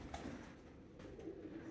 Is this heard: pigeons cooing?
yes